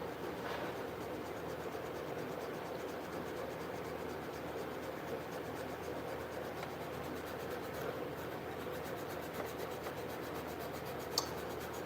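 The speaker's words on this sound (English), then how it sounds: "And get to sanding." A stacked hybrid creation is sanded by hand with steady, continuous rubbing and rasping strokes, faint and close, with a single sharp tick near the end.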